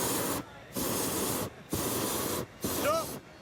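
A hot air balloon burner being flickered on and off at a balloon fiesta, giving four short roaring bursts of hiss separated by brief gaps, fairly near and steady in level.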